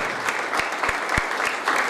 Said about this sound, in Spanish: Fuerte el aplauso para Camille Quintana